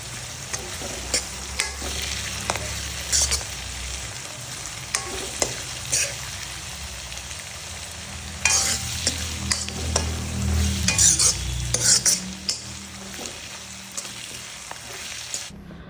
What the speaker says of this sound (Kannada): ಇಲ್ಲಿ ಒಗ್ಗರಣೆಗೆ ಸಾಸಿವೆ ಜೀರಿಗೆ ಕರಿಬೇವು ಹಾಗೆ ಈರುಳ್ಳಿ